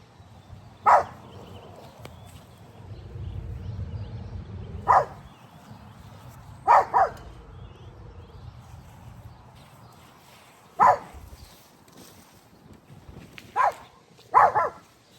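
Several sharp barks from a dog, spaced irregularly, a couple in quick pairs, over a low rumbling background with quiet stretches between.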